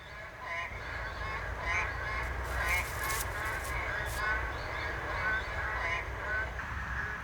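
Narrow-mouthed toads in a forest puddle after the first monsoon rain give a chorus of nasal, honking calls, repeated steadily and overlapping over a low background hum.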